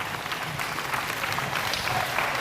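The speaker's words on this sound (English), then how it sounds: "can I get you to just give them a round of applause right now?" Applause from a youth championship crowd for parents and coaches, a steady broadband patter of clapping held at even strength throughout.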